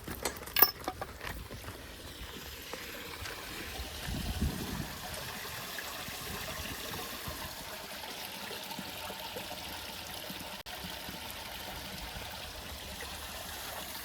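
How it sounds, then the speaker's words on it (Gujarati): Fresh water runs from a motor pump in a village as a soft, steady trickling hiss, faint and continuous, with a few small knocks near the start. "આપણે આજે છે ને મોટર ચાલુ કરી દીધી તાજી તાજી ફ્રેશ પાણી આવે છે"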